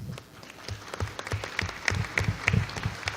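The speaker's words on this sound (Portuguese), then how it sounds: "Eu só queria primeiro que a gente pudesse bater uma salva de palmas para as mulheres" An audience at a panel discussion gives a round of applause for the women present, sparse and uneven clapping from a modest crowd with a few sharper individual claps standing out.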